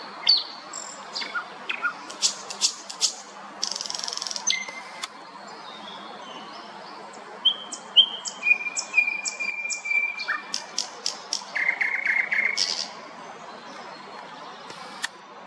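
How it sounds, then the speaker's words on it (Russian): A common nightingale sings loudly in a city centre in late May: varied whistles, rapid chirps and sustained pure notes in bursts, with quiet pauses between phrases and no talking. "тут соловей 25 мая. Очень громко поет."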